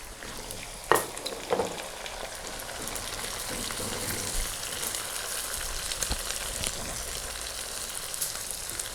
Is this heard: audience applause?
no